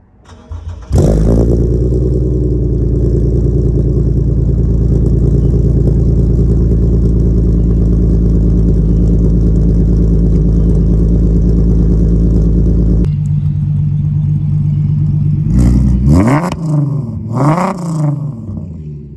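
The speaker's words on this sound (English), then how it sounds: "here is the actual exhaust setup now" A Cadillac CTS fitted with a new exhaust starts and idles with a loud, steady deep drone, then the engine drops and gives a few sharp revs near the end.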